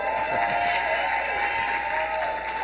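An audience applauds and cheers for Bill Rogers at a financial literacy event, with steady, dense clapping and crowd noise that stays loud throughout.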